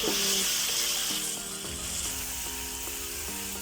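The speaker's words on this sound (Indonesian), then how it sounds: "di wajan kita tuangkan minyak secukupnya. Lalu tunggu agak sedikit panas. Lalu masukkan sambalnya dan ditumis." Sambal chili paste sizzles and spits in hot oil in a wok as it is stir-fried, a loud, close, continuous crackling hiss with faint scraping underneath.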